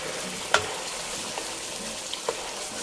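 Cinnamon, cloves, pepper and a dry spice paste frying in oil, a soft continuous sizzle with a few light taps and scrapes of a utensil.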